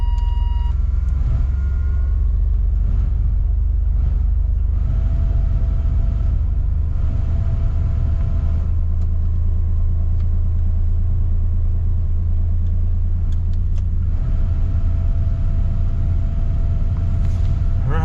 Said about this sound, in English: at least I have a blower and it's blowing